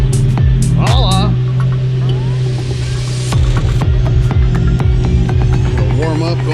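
A car engine idles steadily while warming up before a test drive, a constant low throbbing hum with a few faint clicks and brief higher chirps layered over it throughout.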